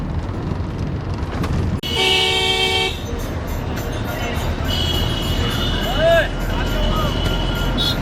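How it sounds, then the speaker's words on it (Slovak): A truck's horn sounds in a loud Holi street scene in India, a steady toot of about a second amid traffic and crowd noise, followed by fainter horn beeps as vehicles pass, with people talking nearby. "Tak ten stojí za to, to je parádny kamión."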